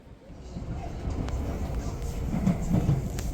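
A metro train in Cape Town rumbles along the tracks, its low rolling noise swelling gradually, with faint clicks and squeals from the wagons.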